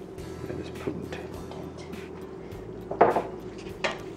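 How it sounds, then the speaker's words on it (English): Macaroni salad dressed with apple cider vinegar being stirred in a pot: soft scraping and clinks of a utensil against the pot, with a couple of sharper knocks, under a faint background hum. "And I'm just gonna stir it around, make sure it's well coated."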